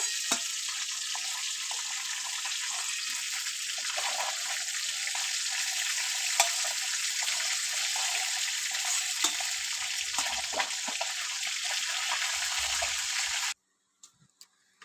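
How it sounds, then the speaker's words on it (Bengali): Rohu fish pieces frying in hot oil for rui posto: a steady, even hiss and crackle of sizzling oil, close and continuous, ending abruptly near the end, with no talk. "মাছগুলো ভাজা হয়ে গেছে এবার মাছগুলো একে একে তুলে নেবো"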